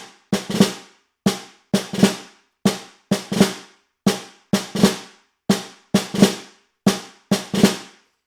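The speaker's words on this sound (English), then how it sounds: "right, left, left with a right-handed drag." Snare drum played slowly in a grade 11/12 all-state audition piece, sharp hits grouped in repeating figures with quick grace-note drags before the accented strokes, close and alone, about a dozen phrases.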